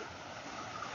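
Water rushes steadily into the collection chamber of a drinking-water project dam after rain, a dense, continuous broadband roar with no breaks, fairly close but recorded at low level.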